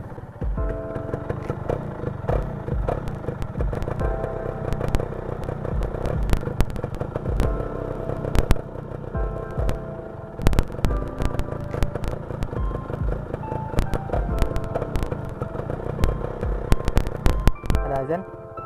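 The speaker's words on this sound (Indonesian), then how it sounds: "Kita dengerin suara knalpotnya ya." A 2005 Yamaha F1ZR motorcycle engine revs and rumbles loudly and continuously through its exhaust, with rough exhaust pops and rising surges throughout, close by.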